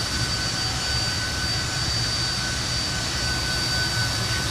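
Fokker F28 jet engines roaring at takeoff power during the takeoff roll in a flight simulator, a steady loud broadband rumble and whine with a thin high tone running throughout, no voices.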